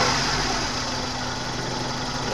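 A misfiring 1997 Suzuki Baleno engine runs steadily and close, with a rough, uneven sputter while held under throttle.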